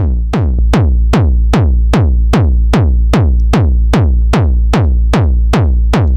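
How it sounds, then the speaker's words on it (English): A kick drum heavily distorted through a saturator in hard curve mode repeats about every 0.4 seconds, each hit punchy and clipped with a booming low tail, loud and steady with no other sounds. "And then saturator in hard curve mode."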